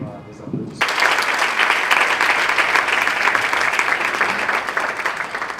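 A church congregation at a choir gathering applauds the parish priest, steady loud clapping from a crowd that bursts in suddenly and continues throughout, close and sustained.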